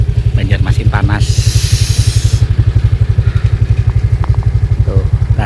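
A motorcycle ridden along a hot city road in Banjarmasin, its engine thrumming steadily and loudly throughout, with a brief hiss of passing traffic and some wordless voice sounds.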